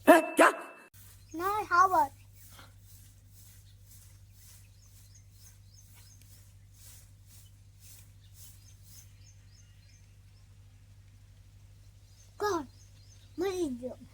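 A few dog barks burst out at the start, then a long quiet stretch over a low steady hum, before more barking near the end.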